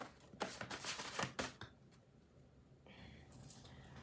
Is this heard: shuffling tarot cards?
yes